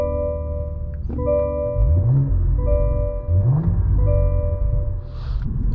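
A 2024 Cadillac CT4 V Blackwing pulls away with a loud, close engine note that rises in pitch through two rev sweeps, then drops back to a steady rumble with no voices.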